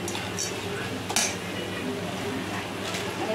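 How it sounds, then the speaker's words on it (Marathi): Roasted sandge being stirred and sautéed with masala in a pan, giving steady scraping and clinking of a utensil against metal with a faint sizzle underneath. "आता याच्यात घालणार आहे भाजलेले सांडगे आणि मस्त परतून घ्यायचं."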